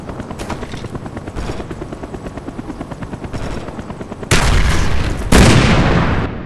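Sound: enemy Cobra attack helicopter approaching, from a video game

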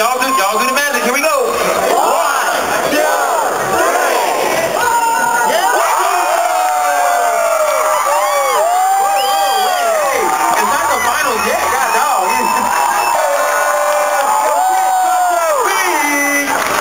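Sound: crowd cheering at a popping dance battle

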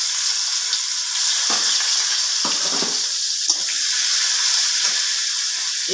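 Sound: chopped onion frying and sizzling in oil with spices

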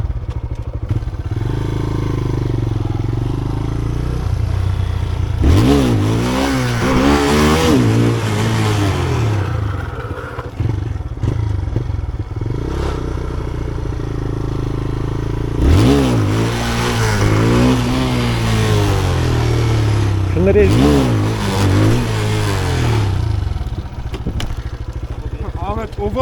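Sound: motorcycle engine revving

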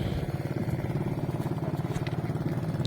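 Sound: small engine fitted to a backwater boat

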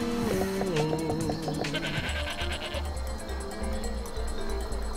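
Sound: goats bleating in the video game Guacamelee!

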